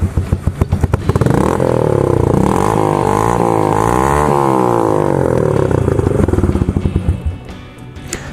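A used motorcycle engine that is not burning oil idles roughly, then revs up and down in smooth repeated swells before dropping back to a lumpy idle, loud and close throughout.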